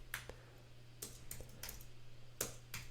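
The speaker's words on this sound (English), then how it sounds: "But if I start typing out 1" Sparse, quiet clicks of a computer keyboard as a few characters are typed while coding, isolated taps spaced unevenly over a low steady hum.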